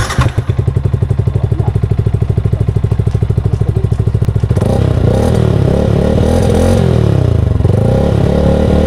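A Yamaha Sniper 155 motorcycle idles with a steady, rapid exhaust putter after an exhaust bolt fix and pipe re-fiber, then revs up into a louder, rougher roar that rises and dips for the remaining seconds, close and alone.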